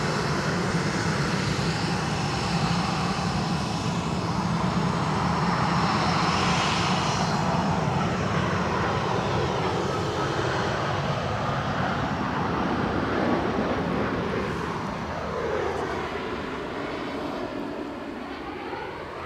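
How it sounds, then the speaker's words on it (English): United Airlines airliner departing Edinburgh Airport, a loud, sustained jet engine roar that builds and then slowly fades as it climbs away, heard alone without talk. "United Airlines departure is my plane"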